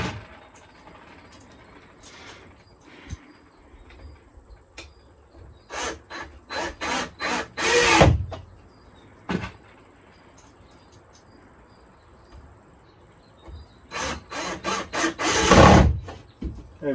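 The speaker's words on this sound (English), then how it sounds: "let's put these screws in real quick." A power drill drives screws into wood while extending an RV bed platform in a Starcraft Autumn Ridge 182, in two loud bursts of rising whirring runs, each ending in a strained grind, with quieter shuffling between.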